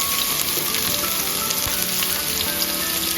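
Onions frying in a pan with cumin for rajma crackle in a dense, continuous sizzle, loud and close, with faint stirring and no talk.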